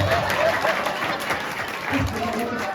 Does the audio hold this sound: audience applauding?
yes